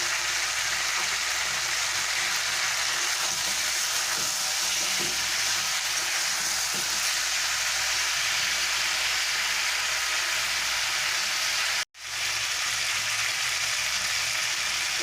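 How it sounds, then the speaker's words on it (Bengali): Chopped tomatoes land in a pan of frying fish curry and sizzle loudly and steadily up close, with a brief cut in the sound near the end before the frying hiss resumes. "এবারে আমি এর মধ্যে টমেটো কেটে রেখেছিলাম দিয়ে দিচ্ছি"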